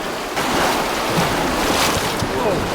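River rapids rush past big boulders on a remote fly-fishing river: a steady, loud, broadband roar of churning water, with gusty wind buffeting the mic and no clear voices.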